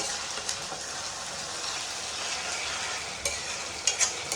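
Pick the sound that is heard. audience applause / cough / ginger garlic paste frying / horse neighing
ginger garlic paste frying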